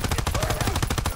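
Automatic gunfire from a Call of Duty WW2 match hammers out in a fast, steady rattle of close, loud shots over the whole brief stretch, with no voice over it.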